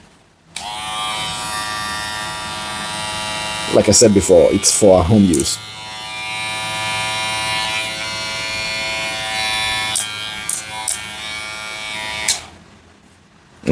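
A Kemei KM 2372 hair clipper with a ceramic cutter blade runs with a steady, close electric buzz, starting and stopping cleanly, while someone talks briefly over it.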